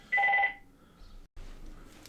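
A short double-burst telephone ring sounds loud and close at the start, then stops, leaving faint room noise and a brief dropout.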